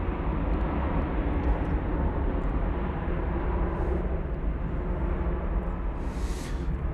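An American Airlines Airbus A321 taking off at Dallas/Fort Worth Airport gives a faint, distant, steady rumbling roar that fills the whole stretch evenly, with no voices.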